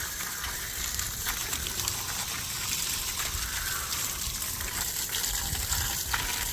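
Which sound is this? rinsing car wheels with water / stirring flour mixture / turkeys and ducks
rinsing car wheels with water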